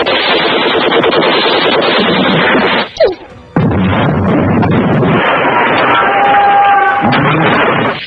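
Dense, continuous machine-gun and rifle fire from an Indonesian film battle between fighters and Dutch troops, loud and chaotic, with a brief drop near the middle before the barrage resumes amid crashing noise.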